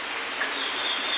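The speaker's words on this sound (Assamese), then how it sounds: "এতিয়া বৰষুণ পৰি আছে" Steady rain falls with gusting wind during Cyclone Remal in Assam, a dense, even hiss that stays constant throughout the short stretch, with no voices.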